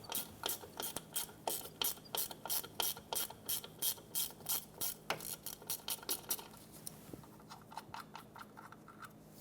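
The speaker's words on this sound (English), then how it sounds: "first we have to remove the 10mm bolt that holds the ABS wire or sensor in" A ratchet wrench loosens the 10mm bolt holding the rear ABS sensor on a 2014-2021 Mazda 6 during wheel bearing work, a rapid series of sharp metallic clicks in quick bursts, close and clear with no talking.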